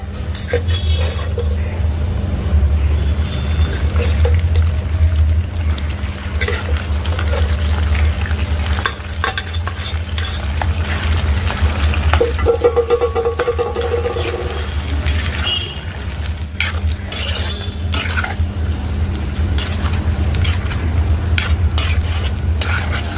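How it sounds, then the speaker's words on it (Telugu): Chicken pieces fry in hot oil for a chicken pickle, a loud steady sizzle lasting throughout, with occasional stirring scrapes and clinks of a spoon against the pan. "మిగిలిన ఆ చికెన్ ముక్కల్ని కూడా ఇందులో వేసేసి మళ్ళీ ఫ్రై చేస్తాం"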